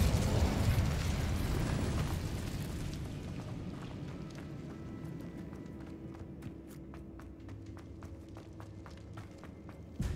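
The Incendio fire spell cast in the video game Hogwarts Legacy: a loud, roaring burst of flame opens and slowly fades into a low rumble, with faint footsteps and small crackles continuing behind it.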